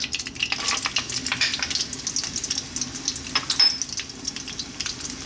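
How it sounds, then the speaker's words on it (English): Dried chili and garlic fry in olive oil in a pan, a dense, continuous crackling sizzle with bright spitting pops, close and steady throughout with no talking. "I'm going to start off by dropping in that dried chili. Then we're going to add our garlic."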